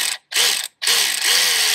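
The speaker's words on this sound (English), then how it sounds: "I'm just gonna unbolt things, start wiggling stuff around" A hand ratchet clicks rapidly while unbolting parts around the A/C compressor of a C7 Corvette, in three short bursts of dense ratcheting separated by brief pauses, loud and close.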